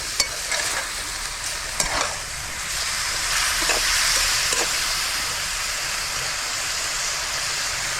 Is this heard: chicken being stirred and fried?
yes